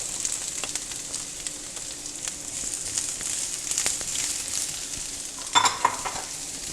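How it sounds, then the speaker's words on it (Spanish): Bell peppers and onion sizzling steadily in a pan while being stirred for a Dominican fish recipe's coconut sauce, a constant close frying hiss with occasional utensil scrapes and clinks near the end. "Nuestros ajíes morrón, a dorarlo junto con nuestra cebolla."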